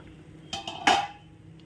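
A lid set onto a pot of simmering fish curry with potatoes, giving a few quick metallic clinks and one brighter clatter close by, with no talking.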